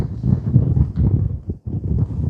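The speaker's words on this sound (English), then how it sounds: "It's a little bit chilly with the wind there" Wind gusting across an exposed wild camp among the Scottish Munros, a steady low rumbling buffet against the microphone that swells and drops briefly, with no one speaking.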